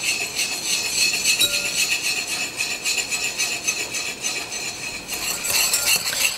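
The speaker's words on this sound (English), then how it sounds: "I'm going to start with just a little bit at a time and get this all whisked in." A whisk beats oil into homemade mayonnaise in a bowl, a fast, steady rhythmic clatter and scrape of metal on the bowl that continues throughout, close and fairly loud with no talk.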